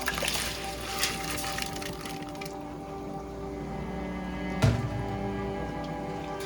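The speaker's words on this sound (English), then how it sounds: "Okay, the water has come to a boil. So we're gonna go ahead and add our rice to this." Rice for biryani goes into a pot of boiling water, heard as a steady bubbling hiss with a brief splash partway through, close by and with no talk.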